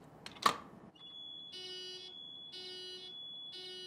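A fire alarm system beeps in repeated, evenly spaced high-pitched bursts after a brief knock, sounding steadily at moderate volume.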